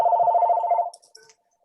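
A telephone rings with a steady repeating electronic trill, loud and close, for nearly a second during an online council roundtable meeting, then cuts off, leaving faint brief noises and near silence.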